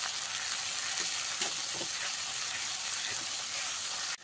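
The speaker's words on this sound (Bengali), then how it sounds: "এবারে এর মধ্যে আমি আদা বাটা 1 চামচ দিয়ে দিলাম। দিয়ে ভালো করে মশলার সাথে ভেজে নেব।" Onion and ginger paste frying with spices in a pan, giving a steady, close hissing sizzle with a few faint stirring scrapes, then stopping abruptly at the end.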